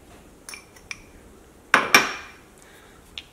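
A spoon clinks against a bowl while mashed tapioca is mixed with grated coconut for a Kerala breakfast: a few light taps, then two sharper knocks close together, and a last small clink.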